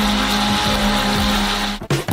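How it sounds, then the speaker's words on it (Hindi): A blender mixing strawberries and sugar whirs loudly at close range with a steady motor whine, then cuts out abruptly near the end. "हम इसे एक ब्लेंडर के साथ अच्छी तरह से बीट करेंगे।"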